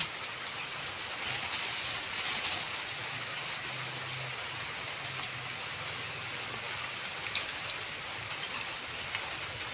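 Steady rain falls, a dense even hiss of drops on surfaces with occasional louder patters, no voices.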